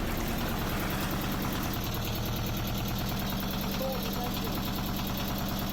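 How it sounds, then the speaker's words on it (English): A close, loud narrowboat engine chugs steadily at idle with a rhythmic low knocking throb, continuous throughout with no pauses. "The engine was very loud, right in my ear just there."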